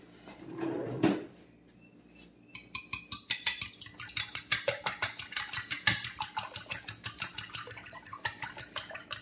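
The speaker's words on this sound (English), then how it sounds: "the first thing I want to do is beat my eggs together" Eggs are beaten together in a bowl with a utensil, giving a fast run of regular clinking strokes close by, preceded by a brief rustle and a short pause.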